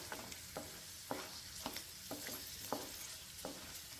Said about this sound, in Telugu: గ్రౌండ్ నట్ కూడా వేగిపోయిందండి